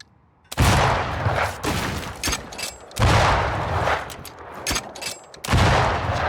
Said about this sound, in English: We might shoot through the wooden planks.